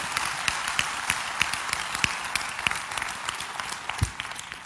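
An audience at a motivational sermon claps steadily in a moderate, continuous stream of applause with a few sharper claps standing out and no speech over it.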